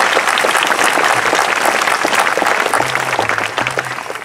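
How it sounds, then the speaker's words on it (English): Big round of applause from a whole-school gathering, loud dense clapping sustained throughout and easing slightly toward the end, with a faint tonal hum underneath. "So can we please give them a big round of applause?"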